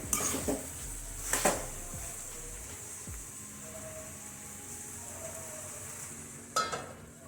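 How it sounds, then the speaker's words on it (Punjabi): Tinda vegetable curry cooks in a pan with a soft, steady sizzle, broken by a few sharp metallic clinks of a spoon against the pan near the start and again toward the end. "ਸਬਜ਼ੀ ਨੂੰ ਆਪਾਂ 3-4 ਮਿੰਟ ਵਾਸਤੇ ਹੋਰ ਪਕਾਵਾਂਗੇ"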